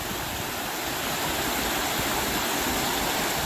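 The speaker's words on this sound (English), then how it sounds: "We passed several cascades in Travertine Creek" Steady, dense roar of the Little Niagara cascade on Travertine Creek, a waterfall on a creek trail in Chickasaw National Recreation Area, heard close and loud as an unbroken wash of falling water with no voices.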